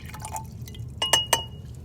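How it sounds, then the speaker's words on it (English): Water is poured into a 500 ml glass beaker, giving a short, faint trickle and drip followed by two bright, close splashes or clinks against the glass. "I'm going to pour it into my 500 ml beaker."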